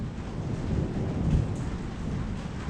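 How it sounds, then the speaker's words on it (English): A thunderstorm near a farm where an International 990 haybine sits, with steady rain and a low, broad rumble of thunder swelling in the middle and fading, heard alone without talk. "I don't know whether that storm's moving away from us or getting closer this way or what's going on with it"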